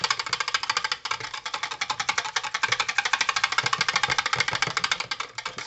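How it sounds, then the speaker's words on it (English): Berry juice being whisked by hand for jelly, a rapid, steady run of close clicking and scraping strokes with no pauses and no talking. "And then I'll just whisk this"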